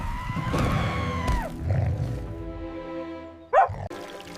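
A dog barks and yips close by in a comedic Upper Egyptian sketch, short sharp calls with a whimpering tone mixed with a tonal whine and background clatter.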